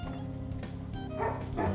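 A dog yips and barks in short bursts over steady background noise in a house with a backyard, the calls rising in pitch toward the end.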